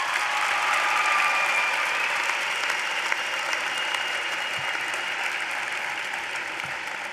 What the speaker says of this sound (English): Graduates, please give your parents a huge round of applause.